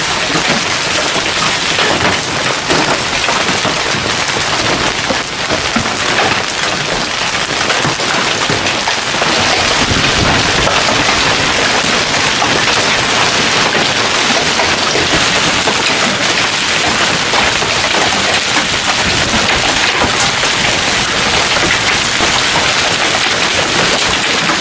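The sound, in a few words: hailstorm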